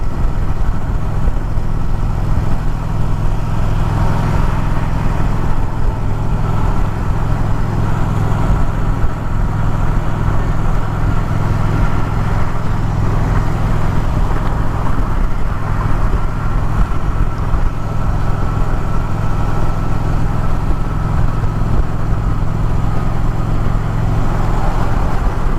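A 2024 Indian Challenger Dark Horse motorcycle cruises at highway speed around 2500 RPM, its engine a steady low drone blended with heavy wind rush, loud and constant throughout.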